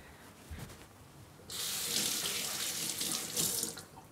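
A kitchen tap gushes into a sink while tomatoes are rinsed, a steady close splashing rush that starts abruptly after quiet handling noises and continues to the end.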